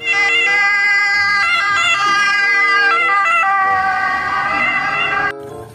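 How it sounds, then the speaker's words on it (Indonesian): A loud electronic toy siren plays continuously, its wavering tones and bright harmonics cycling without pause before cutting off near the end. "Wah, lihat teman-teman, ada mobil ambulans."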